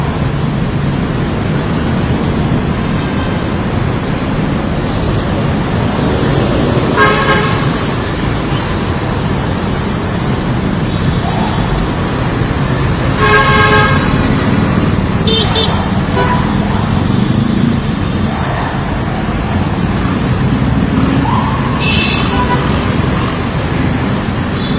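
Road traffic held back to let a VIP convoy with red plates pass, a steady loud roar of engines and tyres with several short horn toots breaking through, and voices talking over it.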